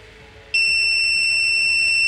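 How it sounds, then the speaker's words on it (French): A water leak detector alarm goes off as water reaches its probe, a sudden loud, steady high-pitched electronic tone that starts abruptly and holds without a break, close by. "Le détecteur m'envoie une alarme comme quoi il est en alarme."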